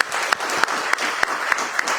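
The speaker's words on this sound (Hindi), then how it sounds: "तो एक जोरदार तालियां सर" Applause from an audience at a Rotary Pune camp event honouring a speaker, a dense steady wash of clapping with sharper individual claps popping out at regular intervals, filling the whole stretch with no talk.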